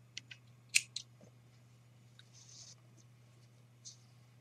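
Scissors snipping through crochet yarn at a left-handed crochet project, a few quiet, close clicks and cuts in an otherwise hushed room.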